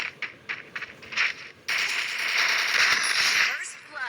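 Video game gunfire in a custom match: a few sharp shots crack out, then a sustained rattling burst of automatic fire, with a voice talking over the game.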